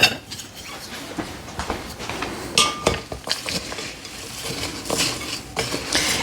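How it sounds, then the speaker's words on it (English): Dry baking ingredients with coconut and seeds are stirred in a bowl, giving a steady run of scraping and clinking spoon-on-bowl sounds with no talk. "you can just simply stir them up"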